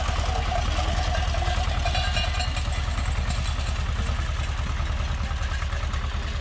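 A Belarus tractor engine chugs steadily while raking thick hay on a meadow, a rhythmic low diesel knock with clattering implement noise on top, close and constant.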